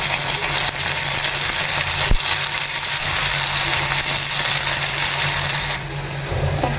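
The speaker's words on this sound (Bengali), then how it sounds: "পেঁয়াজ এবং পেঁয়াজ মরিচ এবং সামান্য লবণ দিয়ে ভালোভাবে ফ্রাই করে নেব" Onions and green chilies with a little salt fry loudly in a hot pan, a dense continuous sizzle heard up close with no voices, with a brief knock partway through.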